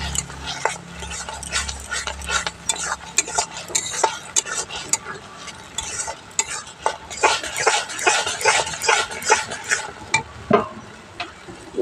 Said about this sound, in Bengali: সুজি দিয়ে দেব। সুজি দিয়ে এখন ভালো করে নেব।